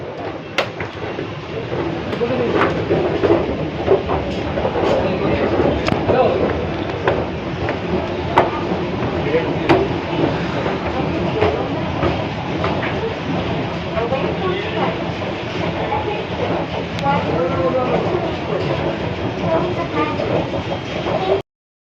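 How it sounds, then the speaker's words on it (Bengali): A train pulls into platform 2 at Berhampore station with a continuous, loud, broad rumble and rattle of rolling stock that fills the scene from start to finish, with no break in the noise. "আর আমাদের ট্রেন আসবে 2 নম্বর প্ল্যাটফর্মে"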